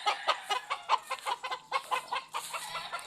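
Kelso and Sweater chickens on a breeding farm cluck in a steady run of short, fairly close calls, alone with no talk over them.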